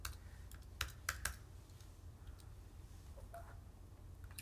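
A computer keyboard clicks faintly under a quiet room hum. A few quick keystrokes come early, then scattered lighter taps follow.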